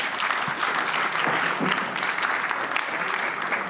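A room full of people claps steadily and warmly, the applause sustained at an even level from start to finish.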